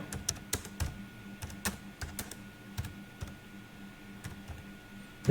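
Keys clack on a computer keyboard as a Google search is typed, a close, steady run of quick clicks with a few louder strokes and no voices.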